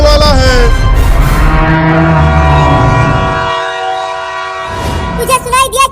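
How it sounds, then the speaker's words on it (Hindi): A cartoon train sounds a loud, sustained multi-tone horn as it approaches, with rumbling low noise beneath it and a fading blast near the end. "ट्रेन आ रही है। अभी अभी वो सीटी मारी।"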